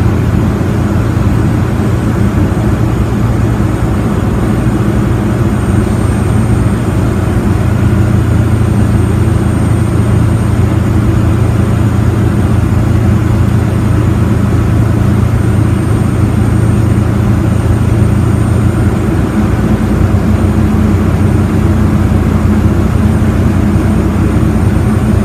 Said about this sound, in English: I'll go ahead and give some RPMs up to about 11 or 1200 until my engine cuts out